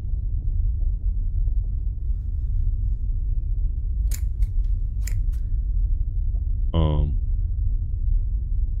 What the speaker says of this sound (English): No, those were scissors.